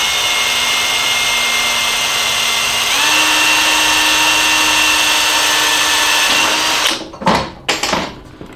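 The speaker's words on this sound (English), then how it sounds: "so just drill the hole" A power drill bores a pilot hole for a DIY car awning, whining steadily at high speed for about seven seconds, rising slightly in pitch partway through, then stopping and giving a few short bursts as it finishes.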